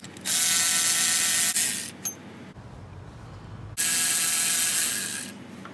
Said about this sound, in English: I'm going to take this bolt off to get this power steering pump off